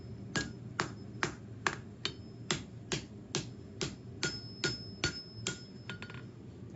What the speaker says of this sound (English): Start to angle my steel as I forge that tip in